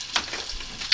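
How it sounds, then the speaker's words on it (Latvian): A vegetarian lunch frying in a pan gives a brief burst of soft sizzling with a few sharper crackles, close and alone. "Viņš tomēr cepās."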